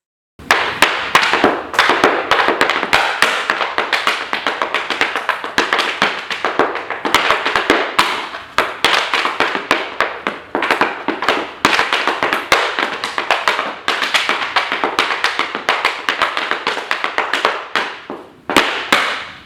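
Fast, loud percussive taps and clicks from hard Irish dance shoes striking a floor on pointe, in rapid rhythmic bursts with short pauses, close and sharp.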